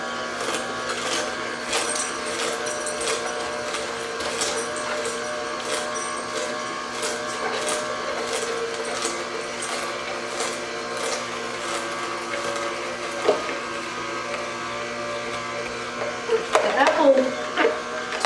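An AMZCHEF slow juicer crushes celery and apple with a steady motor drone and buzz, continuous throughout, with a few louder clunks and rattles near the end as produce is pushed in.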